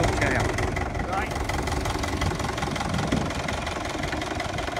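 An International crawler tractor's engine runs steadily close by with a rough, knocking mechanical beat, while people talk over it as the machine is put into gear.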